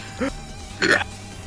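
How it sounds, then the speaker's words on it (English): An odd, croaking burp in two short bursts, the second louder and longer, heard close up during a game night. "Weird ass burp."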